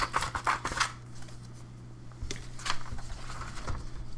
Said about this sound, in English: and you just want to cut straight up from there